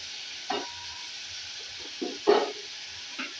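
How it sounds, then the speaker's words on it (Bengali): Spice paste of ground cashew, raisin, chilli and salt being stirred in a pan on the stove: a low steady sizzle with a few separate scraping stirs, the loudest near the middle, close by and with no voices. "এবার সবগুলো একসাথে মিলে না একটু নেড়ে চেড়ে এবার ঢাকা দিয়ে দেবো"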